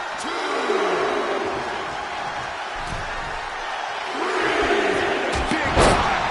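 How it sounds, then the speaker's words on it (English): Crowd in a WWE 2K24 wrestling arena roaring and cheering steadily, swelling louder toward the end with a few slams in the ring, under a commentator talking. "The sound of this crowd is deafening"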